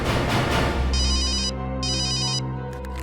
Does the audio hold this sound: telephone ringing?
yes